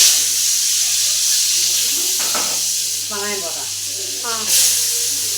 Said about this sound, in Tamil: தாளிக்கும் நம்ம போட்டுக்கிற கடுகா போட்டேன்